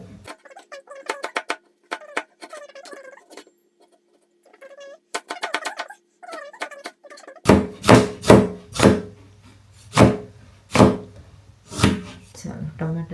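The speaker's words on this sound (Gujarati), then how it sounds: "ટમેટાને પહેલાં કાપી અને રેડી કરી નાખીએ." A knife chops tomatoes for biryani on a board, a string of sharp thunks in an uneven rhythm, close and loud, following a stretch of talking.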